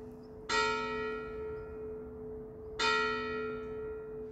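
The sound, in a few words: church bells ringing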